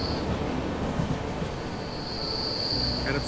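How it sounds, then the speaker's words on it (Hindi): A train passes through Betul railway station with a continuous rolling rumble and high wheel squeal, steady and fairly loud throughout, with no voices. "समय आ चुका है बैतूल रेलवे स्टेशन को पार करने का"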